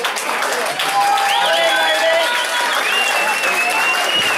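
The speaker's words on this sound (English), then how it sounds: "Ladies and gentlemen, give a round of applause to these three fighters." A fight-night crowd applauds three fighters with a sustained, even wash of clapping while a whistle-like tone glides above it and a voice carries faintly underneath.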